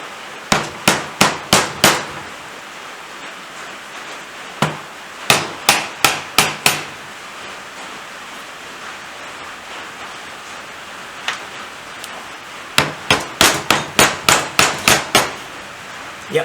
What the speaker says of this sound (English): So let's get the bumpy hammer.